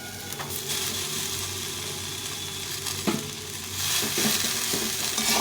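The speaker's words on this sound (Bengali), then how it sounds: "এখন আমি শাকটা দিয়ে দেবো" Bete shak leafy greens frying in a little oil in a pan, a steady sizzle under intermittent scraping strokes from stirring, fairly close, with the hiss swelling louder toward the end; no voices.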